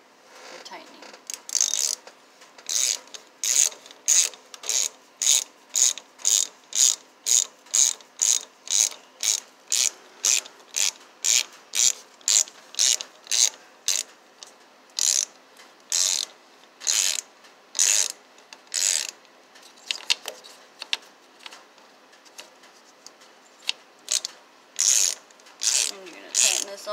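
A ratchet clicks in rapid, rhythmic bursts, close and crisp, tightening the ignition coil screw on a 2015 Chrysler 200 engine, with short pauses between strokes and a few irregular clicks near the end.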